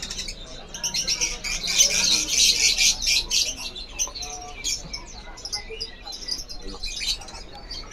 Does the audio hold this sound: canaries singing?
yes